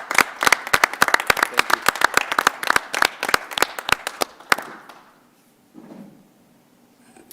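Audience applause at a school board of education meeting, honoring two departing members: a burst of dense clapping for about four and a half seconds that stops abruptly, followed by a brief spoken thank-you.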